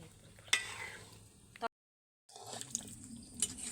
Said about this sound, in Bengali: ঘন ঘন ঢাকনাটা খুলে খুলে আমি কিন্তু নেড়ে দিচ্ছি